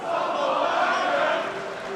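A wrestling crowd in Liverpool jeers a wrestler, a dense, steady roar of many voices that holds loud and even throughout with no single voice standing out.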